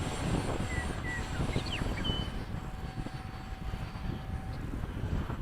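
An FMS 70mm F/A-18 electric ducted-fan model jet climbing away after takeoff gives a continuous, broadband rushing whoosh with faint whistling tones, steady and moderately loud at a distance, with wind noise outdoors.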